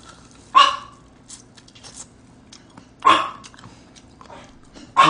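A small house dog giving three sharp, separate barks spaced a couple of seconds apart, close and loud against a quiet indoor background with faint scattered sounds between them.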